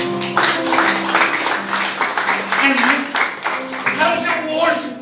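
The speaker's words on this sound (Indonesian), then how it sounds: "Yang paham tepuk tangan Tuhan." A Sunday church congregation claps along during worship with rhythmic, fairly close handclaps over sung or spoken voices and a sustained musical tone.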